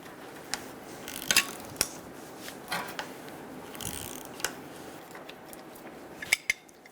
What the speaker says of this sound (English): Using a 9mm socket to hold the top of the strut pole while I use the wrench to take